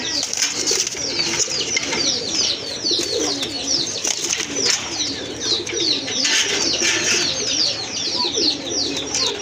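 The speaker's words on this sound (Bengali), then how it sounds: "এই যে দেখেন কবুতর জোড়া কিন্তু খুবই সুন্দর" Several pigeons coo continuously and close by, their soft throaty calls overlapping with some chirps in the background; no one speaks.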